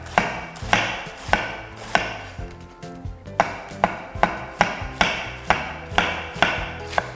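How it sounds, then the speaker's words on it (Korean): A knife thinly slices cabbage on a board for okonomiyaki, making crisp, evenly spaced chops about twice a second, loud and close, with a brief pause midway before the rhythm resumes. "얄팍하게 채를 썰어서요."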